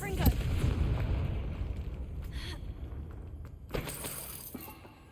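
The Confringo blasting spell from the video game Hogwarts Legacy explodes with a loud, booming burst about three quarters of the way through, surrounded by rumbling spell-combat noise and smaller impacts.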